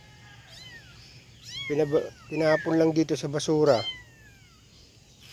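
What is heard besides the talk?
abandoned kittens meowing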